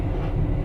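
Low, steady rumble of the moving KA Pandalungan passenger train heard from inside its luxury dining car, a continuous heavy drone throughout a very brief moment.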